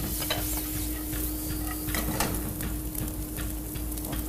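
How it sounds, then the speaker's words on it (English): Onions and hot pepper frying in a frying pan, a steady loud sizzle close by with scattered ticks and scrapes of stirring throughout, no talk. "Throw them into the frying pan."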